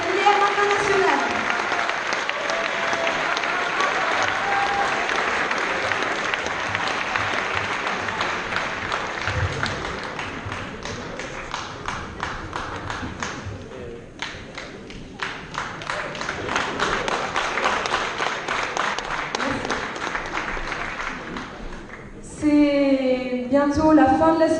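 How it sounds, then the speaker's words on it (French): An audience applauding graduating students at a diploma ceremony, sustained dense clapping from a large crowd that swells and eases over twenty seconds before a voice speaks over a microphone at the end. "on peut applaudir une dernière fois les élèves diplômés de la filière internationale"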